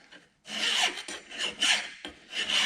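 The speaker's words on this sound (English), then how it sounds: "clean off the top so everything sits where it's supposed to sit" Rust being scraped and filed off the metal contact surface of a Spicer 1710 half round universal joint. Harsh rasping strokes come close and loud in a repeating back-and-forth rhythm, broken by brief pauses, with no talking.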